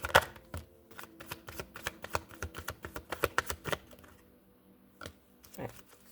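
Crisp clicking riffles of cards being shuffled in quick bursts, with a pause and a few final snaps near the end, close and fairly quiet.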